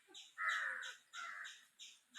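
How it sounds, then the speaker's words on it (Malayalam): Crows caw in a few harsh, drawn-out calls, the first loudest and the later ones shorter, with a quick final squawk, all fairly close and with no talking. "കണ്ടടാ കാക്കകൾ വന്നടാ."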